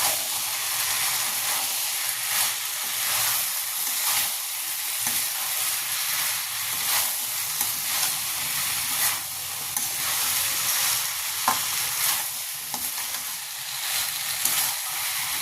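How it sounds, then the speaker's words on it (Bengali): Potatoes and peas for ghugni are stirred and fried together in a pan, giving a constant loud sizzle with scraping stirs mixed in and no voices. "আবারও ভালো করে নাড়াচাড়া করে আলুটাও একসাথে কষে নিচ্ছি"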